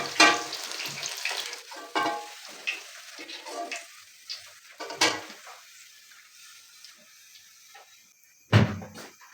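Chicken pieces frying in hot oil, a bubbling crackle that surges and fades in bursts alongside clattering utensils and handling knocks, with a sharp louder clank near the end.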